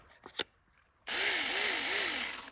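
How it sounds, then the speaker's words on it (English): A cheap electric chainsaw from Amazon, heard outdoors in winter: a few brief knocks, a pause, then the motor starts abruptly and runs at a loud, steady high-pitched whine with a slight wavering pulse, close up. "We're trying out a super cheap Amazon electric chainsaw."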